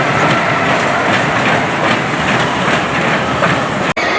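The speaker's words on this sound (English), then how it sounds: "There is the train moving along." Continuous loud rumble and rhythmic clatter of a small kids' train ride rolling along at Worlds of Fun amusement park, Kansas City, with a brief sharp dropout near the end.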